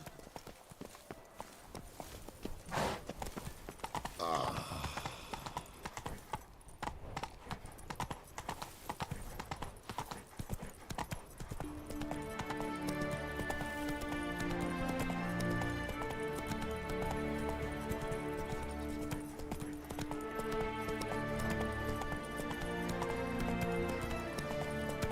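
Roach the horse gallops in The Witcher 3, hooves clip-clopping in a quick, steady rhythm under a swelling orchestral score, fairly close and clear.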